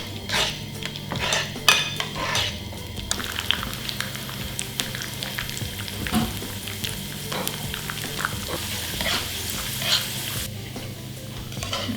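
Pine nuts frying in oil, a steady close sizzle with repeated metallic scrapes and clinks of a utensil stirring against the pan throughout.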